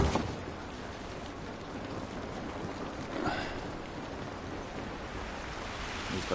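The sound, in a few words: rain falling in The Last of Us Remastered video game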